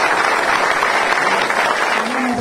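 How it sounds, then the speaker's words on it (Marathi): Applause from a crowd gathered at a temple ceremony in Nigude, where the village honours a chief dignitary; dense steady clapping fills the whole stretch without a break, and a faint tone rises near the end. "तुमच्या सगळ्यांच्या वतीने जोरदार टाळ्या."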